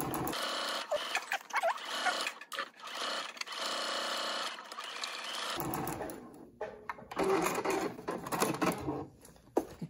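Sewing machine running bursts of top stitching around the edge of a cotton face mask, a fast close mechanical whir that starts and stops several times.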